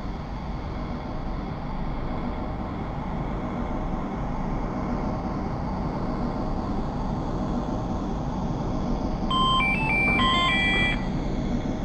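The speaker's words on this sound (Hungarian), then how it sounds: "Személyvonat érkezik Szolnokról a 6. vágányra." A Hungarian passenger train from Szolnok pulling into platform 6 at a station, a steady heavy rumble throughout, with a brief electronic chime near the end.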